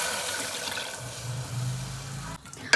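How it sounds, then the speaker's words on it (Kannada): Milk poured into a pot of rice for ghee rice, a steady close liquid pour running for about two seconds and then stopping, with no talking. "ಇಲ್ಲಿ 1 ಕಪ್ ಅಷ್ಟು ಹಾಲು ಹಾಕ್ಕೊಳ್ತಾ ಇದ್ದೀನಿ."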